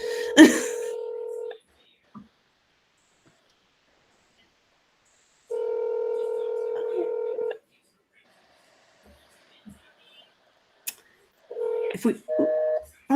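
Touch-tone keypad dialing for a phone call, with bursts of steady dual tones at the start, around the middle and near the end, separated by quiet gaps and a few small clicks.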